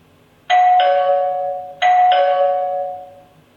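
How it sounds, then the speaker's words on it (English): Xiaomi Aqara Zigbee gateway sounding its doorbell chime: two identical two-tone ding-dong rings, each a bright tone dropping to a lower sustained note that slowly fades, clear and close with no talking. "The base station itself is the Zigbee gateway, and that can be used also as a doorbell chime"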